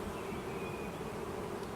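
Honey bees hum steadily around an open hive during an inspection, a soft continuous drone with a faint higher whine drifting through, close and unbroken, with no voices.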